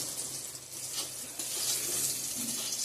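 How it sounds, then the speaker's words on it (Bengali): Eggplant slices fry in oil in a pan in a home kitchen, a steady close hiss and crackle that rises a little partway through, with no voices. "এদিকে বেগুন ভাজাটা করে নিচ্ছি।"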